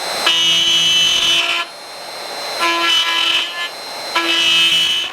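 A router cuts blind dovetails in wood on a Leigh DR4 Pro dovetail jig, giving three separate loud whining passes of a second or so each, with quieter gaps between them.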